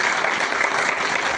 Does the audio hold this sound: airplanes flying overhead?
no